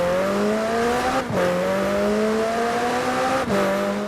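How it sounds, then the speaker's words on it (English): A high-revving McLaren sports car engine in the video game Forza Horizon 4 climbs steadily in pitch, with two quick gear shifts dropping the tone before it winds up again; loud and continuous. "They recorded the McLaren noises and everything."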